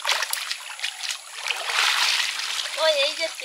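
Water splashing and trickling as freshly caught pond fish, including tilapia, are washed by hand outdoors, steady close splashes and dribbles filling the moment, with a voice briefly heard over them.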